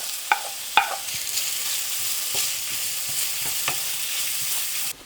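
Pork and onions fry in a hot pan for garlic pork adobo fried rice, giving a steady broadband sizzle with a few sharp clinks and scrapes of stirring. The spatula taps come up close and loud, and no one speaks.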